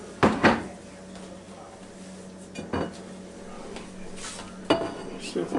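Pulled pork from a Swift Premium butt roast, cooked with Smithfield BBQ sauce in a Ninja Foodi, dumped onto a plate, giving a few close clattering knocks spaced apart over low room noise.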